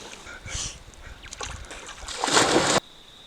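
A rock thrown across river water skips and splashes in a few quick bursts, the last splash the loudest, and the sound stops abruptly at the end; a voice is faintly present.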